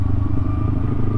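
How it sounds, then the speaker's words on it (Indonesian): A motorcycle ridden along a rough track through a forest, its engine a steady low rumble close by with some clatter from the bike over uneven ground, no talking. "Untung bisa naik motor"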